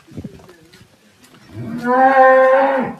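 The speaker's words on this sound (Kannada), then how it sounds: "ನೋಡ್ರಿ ಇಲ್ಲೊಂದು ಹಸು ಐತಿ" A Holstein Friesian cow lets out a long, loud moo that swells and holds for over a second, following a few faint rustles and low sounds.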